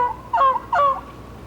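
Two sharp, loud yelping calls from a wooden box turkey call imitating a turkey, evenly paced in quick succession, with nothing else between them.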